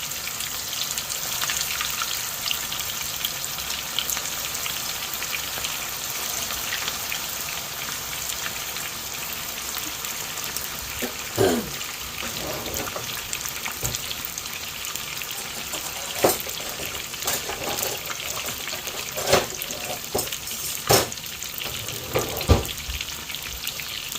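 Meatballs cooking in hot tomato sauce over medium heat give a steady low bubbling sizzle throughout, with occasional soft pops and plops rising slightly above the continuous hiss, no voices.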